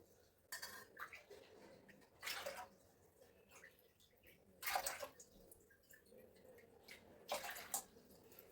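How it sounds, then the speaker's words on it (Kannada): Water is poured into a cooking pot for sago in several short, faint splashing bursts, separated by quiet pauses. "ಇನ್ನು 4 ಕಟೋರಿ ನೀರು ಹಾಕ್ತಾ ಇದ್ದೀನಿ"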